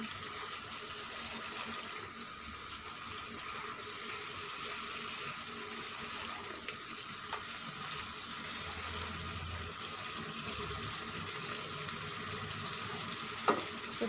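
Chicken karahi fries in a pan with a steady, close sizzle and soft bubbling that runs without pause, plus an occasional faint clink near the end.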